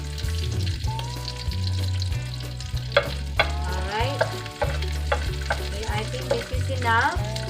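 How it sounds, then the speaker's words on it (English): Garlic browning in hot oil in a frying pan while cooking beef afritada, a steady close sizzle with clinks and scrapes of a utensil stirring it. "We will let this garlic a little bit brown."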